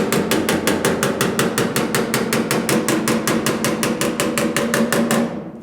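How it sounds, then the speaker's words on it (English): Steady, rapid metallic tapping of a hammer against a dolly held behind a dented car body panel on a Pontiac GTO under restoration, loud and close, with dozens of even blows that continue without pause before trailing off at the end. "And as I move and hammer this way, I'll slide the dolly a little bit with me"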